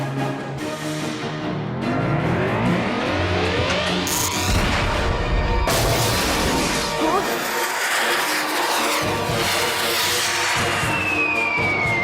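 A cartoon explosion in a Hindi-dubbed Hot Wheels animated action story: loud booming crashes and blasts erupt midway through a busy, music-filled stretch, with sharp broadband bursts standing out over the score.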